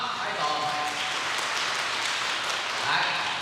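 A church congregation claps during a Sunday worship service to welcome a visitor from a sister church. The applause is broad and steady for several seconds, with murmuring voices mixed in.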